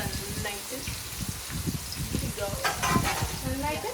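Biryani rice tossed with fried onions, cashews and raisins in a pot, a steady scraping stir with soft sizzling and clinks, fairly close, with a voice talking over parts of it.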